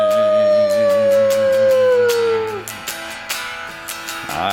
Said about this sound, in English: I have heard the lone wolf's cry.